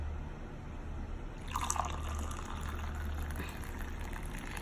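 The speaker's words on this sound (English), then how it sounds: "So you just pour this in, hot tea, you see that?" Hot masala tea is poured into small cutting-chai glasses, a close, soft trickling and splashing stream that starts after a quiet moment and fills steadily.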